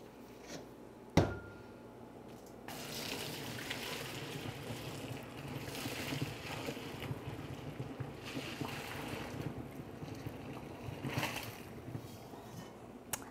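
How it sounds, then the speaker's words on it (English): Pasta being drained into a strainer in a kitchen: a sharp clunk, then a sustained rushing pour of water that holds for about ten seconds at moderate level, with no talk. "I am ready to put it in the strainer"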